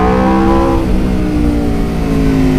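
An Aprilia RSV4 1100 Factory motorcycle's V4 engine revs loudly and close, a sustained rising-then-falling harmonic whine with a rough low rumble underneath.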